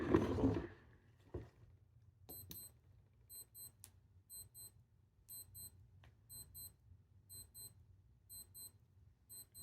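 Yashica FX-D film camera self-timer buzzing in short, evenly spaced electronic bursts, faint and close, repeating steadily after a few clicks of handling at the start.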